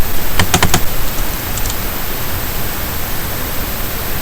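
A handful of quick computer keyboard keystrokes while coding in QtCreator, a short burst of clicks and then a single tap over a loud, steady hiss.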